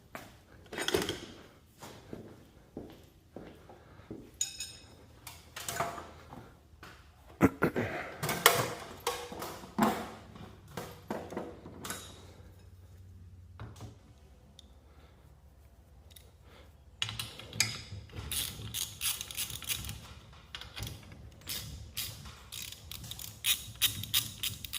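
Garage door torsion springs being unwound, with quiet metallic clicks, ratcheting and clanks of tools and hardware coming in irregular bursts and scattered across a fairly faint, close scene.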